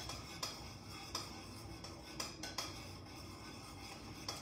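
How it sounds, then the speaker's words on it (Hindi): A spoon mixing batter and breaking up lumps, giving soft faint clinks and taps against a bowl at irregular intervals over a quiet background hiss, with no voice present. "आप किसी भी स्पून से इन लम्प्स को तोड़ सकते हैं"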